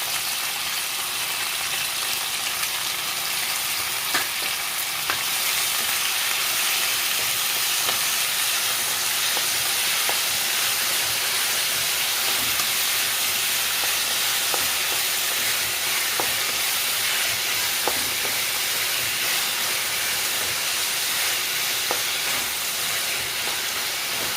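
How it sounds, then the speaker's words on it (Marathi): Onion and tomato fry in oil with a steady, close sizzle and hiss that runs unbroken, broken only by occasional faint clicks of stirring, and nobody speaks. "कांदा टमाटा मस्त आपल्याला तेलामध्ये भाजून घ्यायचा"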